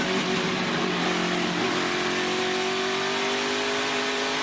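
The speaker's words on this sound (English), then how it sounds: "You can hear Haley just working that throttle." Race truck engine at Richmond in the 2019 ToyotaCare 250, throttle worked hard as it accelerates, a loud continuous roar with steady harmonic drone and rising pitch, close and unbroken with no talk.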